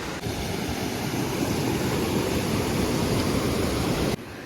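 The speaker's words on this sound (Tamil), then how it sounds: "மழை தண்ணியும் சேர்ந்து ஓடிக்கிட்டு இருக்குங்க ரெண்டு தண்ணியுமே சேர்ந்து கலந்து ஓடிக்கிட்டு இருக்கு கடற்கரையை பார்த்து ஓடிக்கிட்டு இருக்கு" Floodwater mixed with rainwater rushes toward the sea on the coast at Thoothukudi after heavy rain. A loud, steady, broadband roar runs unbroken throughout.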